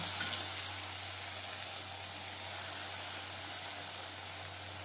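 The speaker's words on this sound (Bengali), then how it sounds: "হাই ফ্লেমে তেল আমি গরম করে নিয়েছি পকোড়া ভাজবো মিডিয়াম ফ্লেমে" Paneer pakoras dipped in besan batter fry in hot refined oil over a medium flame, giving a steady, even hiss and crackle that runs unbroken at moderate level with a low hum beneath.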